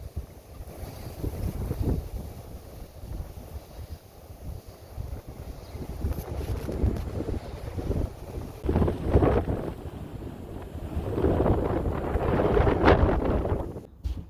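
Strong winter wind gusts buffet the microphone at a snowy campsite with a tarp shelter, roaring and surging in waves, loud and close, with no talking.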